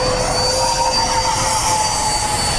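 A Freewing F/A-18C Hornet 90mm RC jet flies past with a loud, steady ducted-fan roar and a high whine, continuous and close, with no voices.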